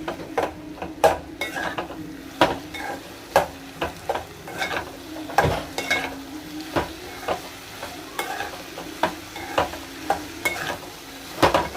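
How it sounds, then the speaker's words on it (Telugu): Poppy seed paste fries in a pan, a low continuous sizzle broken by frequent sharp scrapes and taps of a spoon stirring against the metal, fairly close, with no talking. "వీటిని కూడా బాగా ఫ్రై చేసుకోవాలి"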